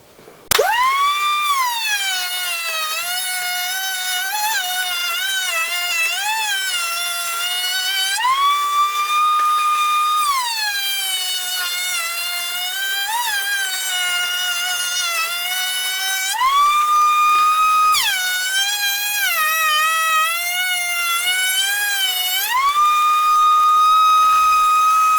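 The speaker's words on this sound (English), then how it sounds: "Standard Roman Ogie bit on there, and I'm going to profile around the outside corners of this" A wood router with a Roman ogee bit profiles the edges of a wooden sign, giving a loud, sustained high-pitched whine that rises and falls as the cut load changes, with a shop vacuum hooked up.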